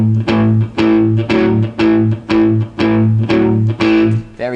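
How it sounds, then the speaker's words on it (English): Palm-muted electric guitar chords in A, with a slightly distorted tone, strummed in short choppy bursts: about a dozen evenly spaced chugs, loud and close, with no talking over them. "you might have noticed I'm using palm muting."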